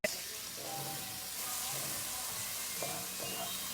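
Shallot, onion and garlic fry in a pan for lentil soup with a loud, steady sizzle close by, and a faint muffled voice is heard in the background.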